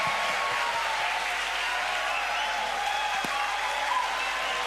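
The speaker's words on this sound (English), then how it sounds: "Give him applause." An audience of police academy cadets at a school seminar claps for a cadet, a steady wash of applause across the whole stretch.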